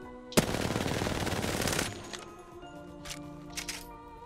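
The R99 submachine gun in Apex Legends fires one loud, rapid burst of shots that lasts about a second and a half, then quiet game sounds follow.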